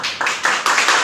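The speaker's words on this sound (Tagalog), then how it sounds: "Salamat po sa mga palakpak." Applause from an audience at a networking company training session, short bursts of clapping swelling in waves across about a second, fairly loud and close with no talking over it.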